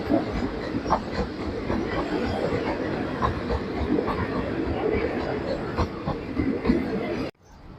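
A passenger train rumbles past close by at the Khlong Tan railway market with a continuous heavy roar and faint rhythmic clatter, cutting off abruptly near the end.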